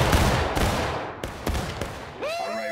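Musket volley fire in the Civil War game War of Rights: several loud sharp black-powder shots crack in quick succession, some near and some farther off, with echoing rumble between them and a brief voice at the end.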